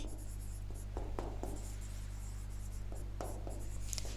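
Pen or marker writing on a board or paper during a Class 10 geometry lesson on triangles, producing scratchy strokes in short bursts over a low steady hum, with no talk.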